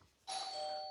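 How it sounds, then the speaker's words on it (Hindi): A doorbell sounds once indoors, a bright electronic chime that starts abruptly after a brief quiet moment and rings on with a sustained tone, fairly soft overall. "1 मिनट, मेरी घंटी बज गई"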